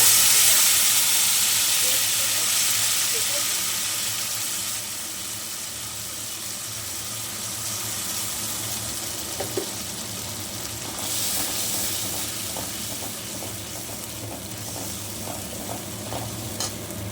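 Ground spice paste sizzling in leftover frying oil with cabbage for a vegetarian Bengali cabbage dish, a steady broad hiss with occasional light stirring scrapes, close and continuous, with no talking.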